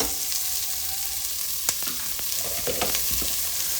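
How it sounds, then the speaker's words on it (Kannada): Onion and tomato fry in tempering oil with a constant, close crackling sizzle, and scattered clicks and scrapes of stirring rise above it. "ಒಂದೇ ಒಂದು ಟೊಮೆಟೊ, ಒಂದೇ ಒಂದು ಈರುಳ್ಳಿ ಹಸಿ ವಾಸನೆ ಹೋಗೋ ತನಕ ಫ್ರೈ ಮಾಡ್ಕೊಳ್ಳಿ"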